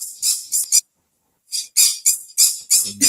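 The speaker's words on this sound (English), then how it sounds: "First thing we hear is birds chirping." Birds chirp outdoors in the morning, with short bright bursts of calls in two clusters separated by a brief silence.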